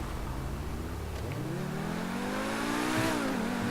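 A Pegassi supercar modelled on a Lamborghini, a facelifted take on the Infernus in GTA 5, revs up with a rising engine tone that climbs steadily and then levels off, close and strong, with no voices.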